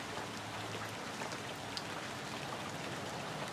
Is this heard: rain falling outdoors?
yes